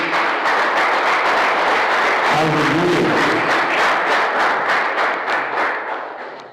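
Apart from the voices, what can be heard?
congregation applauding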